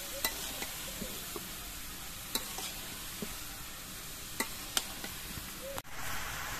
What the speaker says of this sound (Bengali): এবার আস্তে আস্তে নেড়ে তেলের সঙ্গে মিশিয়ে দিতে হবে।